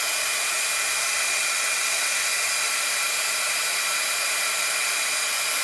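A steady, loud blowing hiss of a heat gun held close and running continuously, melting embossing powder.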